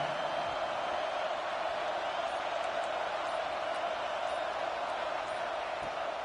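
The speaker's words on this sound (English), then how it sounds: "The roar on the crowd trying to fuel this defense to keep them pinned in their own end." Crowd roar at a college football stadium during an Auburn game, a steady distant wash of noise held under a play-by-play voice talking throughout.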